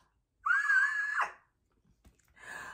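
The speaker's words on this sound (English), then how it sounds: "I am screaming" A woman screams with excitement, one long high-pitched shriek lasting nearly a second, loud and close, followed after a pause by a shorter, softer second cry.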